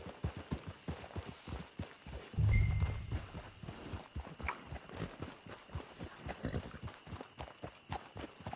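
Horse hooves clip-clop steadily at a walking pace in the Red Dead Redemption 2 video game, a continuous rhythmic series of close, fairly loud hoofbeats with one brief low thump partway through.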